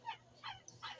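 Three short yelping barks from a small young dog, spaced about evenly within a second, fairly faint and a little distant, with no one talking.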